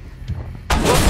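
A tank cannon firing an armor-piercing round in the video game Armored Warfare (Type 59), a single loud close boom bursting after a low rumble.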